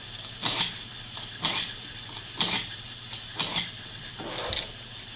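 Surgical steel blades being drawn lightly through a sharpener, giving five evenly spaced gritty scraping strokes with sharp ticking clicks, close and distinct over a low background hum.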